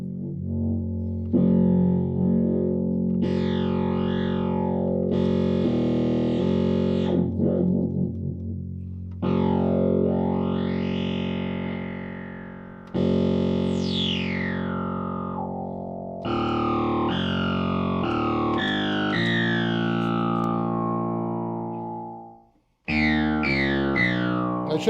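Vintage 1970s Crumar CPB-2 analog bass pedals with the envelope being adjusted, played through an old Fender Champ amp: a run of distorted synth bass notes, some with sweeping filter swoops, loud and close, with no voices.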